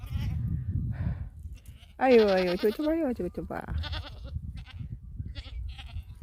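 Bleating from a baby goat and its mother on a city balcony, a string of loud wavering cries in the middle, with a voice speaking before and after.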